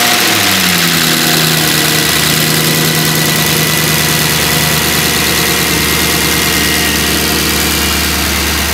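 A Mercedes C63 engine cranks briefly and fires up, then settles into a loud, steady idle with a smooth, even drone throughout.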